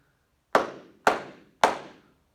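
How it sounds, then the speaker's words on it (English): Three sharp hand claps ring out alone at an even, moderate pace, each close and loud with a short room echo trailing off. "You can clap your hands"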